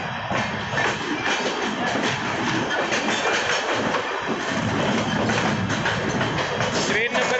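The Mussoorie Express, running from Delhi to Haridwar, rolls steadily along the rails with a loud, continuous rumble and faint rhythmic clatter from close by.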